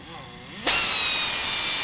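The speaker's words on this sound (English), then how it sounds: "start sanding the lens with the 800 grit" A power sander with 800-grit paper kicks on suddenly against a plastic headlight lens and runs as a steady, loud, broadband whir, with faint speech-like murmur just before it starts.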